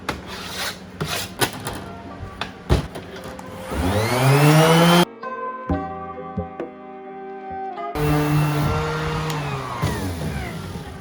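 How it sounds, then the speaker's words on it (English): Sanding a front-end body panel for a widebody Honda CR-Z, with rough rubbing and rasping strokes, a whirring surge, then a short clattering pause before the harsh sanding resumes, loud and close. "We're gonna go ahead and sand it right here."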